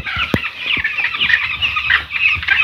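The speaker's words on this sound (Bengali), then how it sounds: "প্রতিটা মুরগি গরমে হাহা করতেছে" Chickens in extreme heat keep up a dense, close chorus of clucks and harsh calls, with a few sharp knocks underneath.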